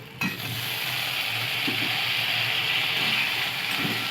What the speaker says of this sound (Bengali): পেঁয়াজটা ভালো করে লাল হয়ে গেছে এর উপরে দিয়ে দেবো টমেটো কুচি